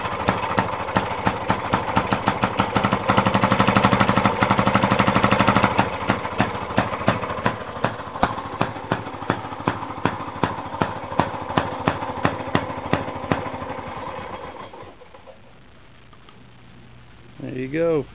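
A gas engine powering a 1917 Maytag Model 43 washing machine runs at a steady, rapid firing rhythm for about fifteen seconds, then slows and quiets near the end as it is lugged down.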